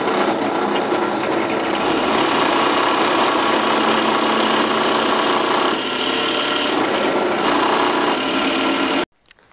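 A power drill with a Forstner bit boring into wood for a workbench rail gives a loud continuous whirring, vibrating drone with slight load changes, stopping abruptly near the end, with no voices.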